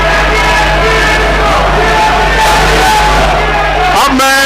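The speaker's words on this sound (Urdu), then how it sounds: "اس وقت چیئرمین سینٹ منتخب ہونے پر ایوان میں کس چیز کے نعرے گونجے تھے وہ نعرے میں سنیے" Crowd in Pakistan's Senate chamber shouts and chants loudly as a chairman is elected, a dense, echoing roar of many voices with a steady hum beneath, ending in a brief burst of electronic feedback.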